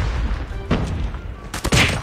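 A grenade detonates in Call of Duty amid a firefight: scattered booms and gunfire rattle early, then a sharp, loud blast lands near the end, with no speech.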